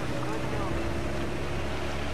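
A boat engine from the video game Dead Island Riptide drones as a steady, loud, broadband roar with a low rumbling base, heard alone with no pauses.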